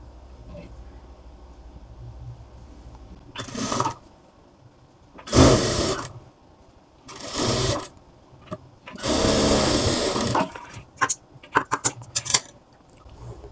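A sewing machine stitches blouse fabric in several separate bursts of rapid whirring, each lasting a second or two, followed by a cluster of quick short runs, with quiet handling in between.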